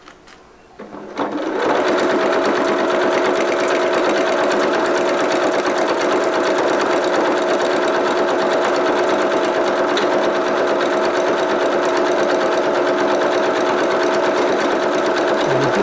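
A sewing machine stitching a pad holder for a window cleaning squeegee starts up and then runs continuously with a steady, even, rapid mechanical whir, close and loud throughout.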